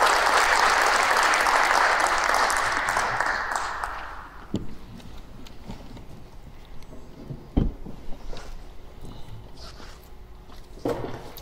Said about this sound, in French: je vous demande d'accueillir en l'applaudissant Miloud Chenouchi